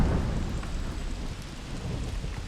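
Heavy thunderstorm rain pours over Borneo rainforest beneath Mount Kinabalu, a dense, steady roar of downpour with low rumbling thunder rolling underneath throughout.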